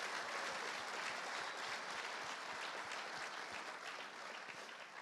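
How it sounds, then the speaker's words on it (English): A luncheon audience at the North Harbour Club Olympic event applauds the Olympic team, with dense, continuous clapping from a large crowd that stays fairly even, easing slightly toward the end. "Let's give them a big round of applause."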